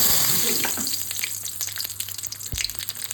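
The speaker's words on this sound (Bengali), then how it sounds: "5 ফোড়ন এবং তেজপাতা দুটো দিয়ে দেবো," Five-spice seeds and two bay leaves crackle and sizzle in hot oil left from frying potatoes, a dense close hiss with brief stirring clatter and a sharper pop near the end.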